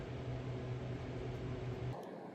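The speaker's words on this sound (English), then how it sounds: "So my heat gun looks like it might be ready." A heat gun blows a steady, droning hum with a low tonal whine and broadband air hiss, running close and continuous before cutting off abruptly near the end, used in reinforcing a countertop seam.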